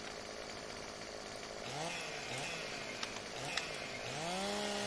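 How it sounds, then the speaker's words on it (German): A chainsaw cuts a tree in Landwirtschafts-Simulator 17, its engine droning steadily and rising in pitch several times as it revs, with a couple of sharp knocks, fairly quiet overall. "komm, sägen wir ihn hier ab"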